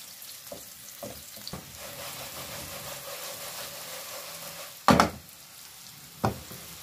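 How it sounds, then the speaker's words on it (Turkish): Vegetable meatballs frying briefly in oil in a pan, a steady soft sizzle broken by a few utensil clinks and two louder scraping knocks. "Çok az çevireceğim yağda"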